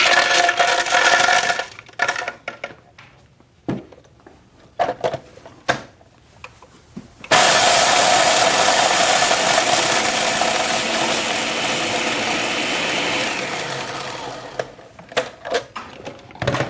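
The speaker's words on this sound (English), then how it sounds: "we'll take these candy canes that were in a box over there, probably since Christmas last year, and we'll just grind them up real quick" A grinder crushes old candy canes, giving a loud, steady whirring grind of several seconds that follows shorter clattering bursts and knocks, with no voices.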